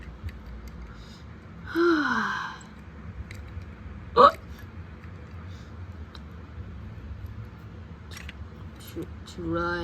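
Animated cartoon car from Cars Toons in Radiator Springs hiccuping: a rising squeaky hiccup, then a single sharp loud hic about two seconds later, with another starting at the end over quiet background.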